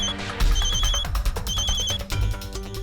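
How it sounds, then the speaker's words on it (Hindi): A telephone rings in an indoor drama scene, two bursts of bright electronic trilling separated by a short gap, set over background music. "उसी का फोन है।"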